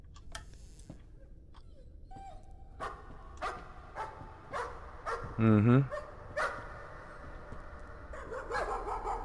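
Ghost dogs bark in short, sharp bursts in the Layers of Fear video game, scattered over several seconds among soft thumps and ambient noise, with a brief whining yelp near the middle and a murmured voice.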